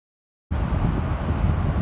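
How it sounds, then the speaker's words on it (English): Wind blows outdoors as a steady broadband rush that starts abruptly after a half-second of silence and holds loud and close, with a low buffeting rumble against the microphone. "Oh my god, the wind."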